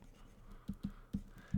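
Chalk or pen marks on a board during a math lesson: four short taps or strokes spaced across a quiet moment, fairly close and faint, with no talk.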